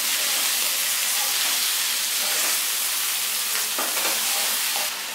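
Malabar spinach is stirred into hot oil in a pan, a loud continuous sizzle and steamy hiss with scraping stir noises rising briefly near the end.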